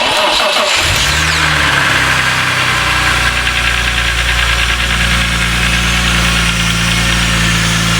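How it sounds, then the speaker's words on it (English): A BMW E46 M3 CSL engine, run with its airbox removed, cranks and catches within the first second, then settles into a steady, loud, close running drone that continues unbroken to the end. "We're going to have the engine running though"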